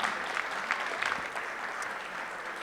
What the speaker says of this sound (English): A big clap for Natalia